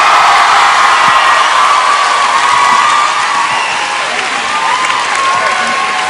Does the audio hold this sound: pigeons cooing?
no